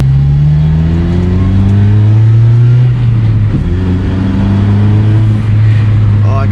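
A Honda RSX on a test drive after suspension work, its engine loud and close as it accelerates through the gears with rising revs, one shift break midway, and steady road rumble underneath.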